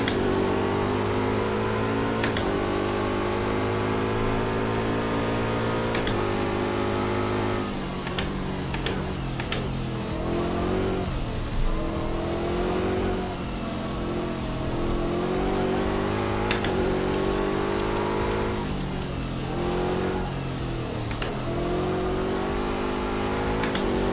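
Project Cars 2 racing game car engine running continuously with traction control off, a steady buzzing drone with shifting revs and gear changes throughout, loud and alone without talk.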